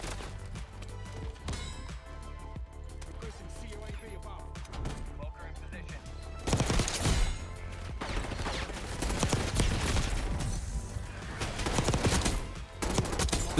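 Submachine gun fire in Black Ops 6, bursts of rapid rattling shots with quieter spaced firing early on, then a louder, denser stretch of automatic fire and impacts in the second half.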